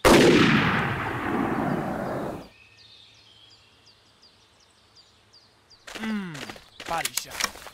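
A loud hunting rifle shot in Hunting Unlimited 2008 cracks close and echoes away over about two seconds, followed by quiet ambience, then birdlike chirps and rustling near the end.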